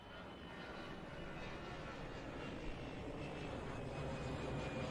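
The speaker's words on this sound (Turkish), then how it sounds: "Evet jetler F-16'lar geçiyor." F-16 fighter jets fly overhead, making a faint, steady broadband roar that builds slightly over a few seconds.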